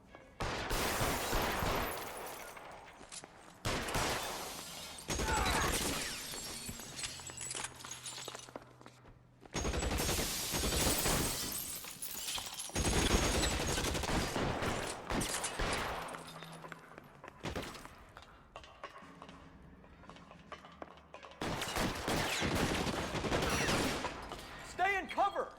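Gunfire in the L.A. Noire shootout comes in loud bursts and rapid volleys that repeat through the scene, with short gaps between them and voices speaking in places.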